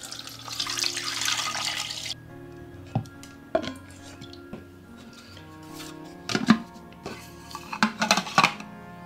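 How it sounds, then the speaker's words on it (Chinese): Rice flour and water poured into a blender for Taiwanese radish cake batter, a splashing pour followed by clinks and knocks of containers against the blender jar, close and uneven. "我们把这些再来米跟水呢倒到这个搅拌机中"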